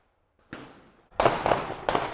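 Test shots from a Mossberg 940 Pro Tactical semi-automatic shotgun, with a sharp blast followed by two or three more heavy reports in quick succession at close range, each with a short decaying tail.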